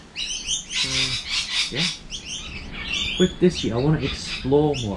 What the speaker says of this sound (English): Like here, for example, you can hear the birds behind me